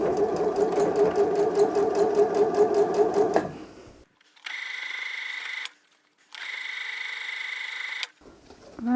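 A sewing machine stitching a small Easter bag with bunny ears, running in a fast steady needle rhythm for about three seconds, then stopping, followed by two separate stretches of a higher mechanical whir, close and clear.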